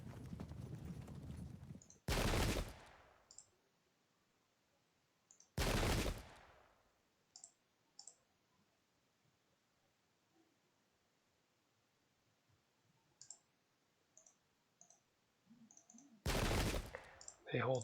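Musket volleys of missile fire in the Pike and Shot strategy game, three loud sharp crackling bursts spaced several seconds apart, with faint clicks and small interface sounds between them.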